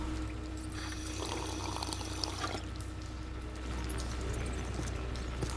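Water pours and trickles steadily in a dim, abandoned restaurant area in Ghostbusters: The Video Game, a continuous moderate splashing over a low droning background hum with no talking.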